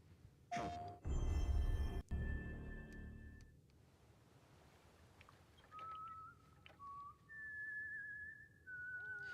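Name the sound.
whistling in a game trailer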